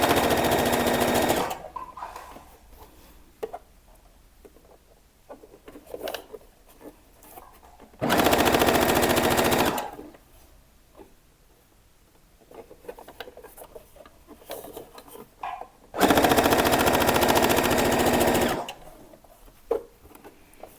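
Domestic sewing machine stitching a seam for a Japanese-sleeve top, three loud bursts of rapid whirring needle chatter, each a couple of seconds long, separated by quieter stretches of fabric handling and small clicks, heard up close with no one speaking.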